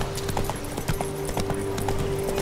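Horse hooves clip-clopping in The Witcher 3 played in first person, a steady trotting rhythm of hollow knocks over a faint background hum, fairly close, no one speaking.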